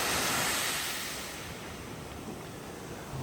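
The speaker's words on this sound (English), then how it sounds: "the sound of the waves as you just stand there, the sound of the water sifting through the shell." Ocean waves wash up Playa Conchal beach in Costa Rica and sift through the shells, a steady, full rushing surge that is loudest at the start and then eases into a softer continuous wash, with no voices.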